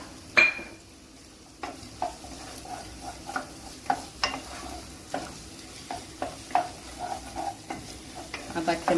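Green chillies fry in a pan alongside ginger and garlic for a Tamil Nadu–style pepper chicken gravy. A soft sizzle sits under repeated close metal scrapes and clinks from the stirring utensil, all at moderate volume with no talking.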